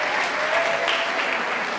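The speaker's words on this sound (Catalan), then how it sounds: "un fort aplaudiment." Dense audience applause during a Catalan word-game quiz show, a steady wash of many hands clapping evenly throughout a short burst with no voices over it.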